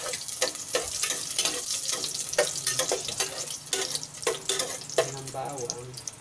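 Garlic dropped into hot oil in a pan for ginataang kalabasa, sizzling with bursts of crackle and spatter and clattering stirs, mid-close, with a voice speaking now and then.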